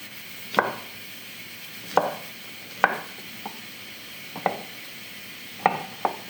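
A knife chops radish for Tibetan thukpa on a cutting board, giving sharp, evenly spaced thunks, about eight over a few seconds, close and clear in a quiet kitchen.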